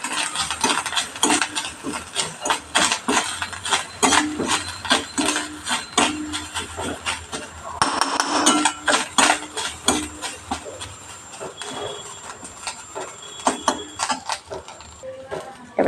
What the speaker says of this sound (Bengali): নারকেল কোড়াটা একটু নাড়চাড় করে নেবো ভালো করে